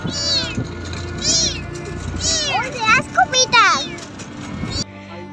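Kittens travelling by boat on a river mew repeatedly in a string of close, high, plaintive meows that rise and fall, with a low hum beneath, before falling quiet at the end.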